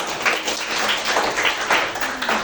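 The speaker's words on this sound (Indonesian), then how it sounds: "tepuk tangan untuk kelas 9 SD" A ninth-grade class in a school classroom applauds: loud, close clapping that swells and dips in short rolling bursts.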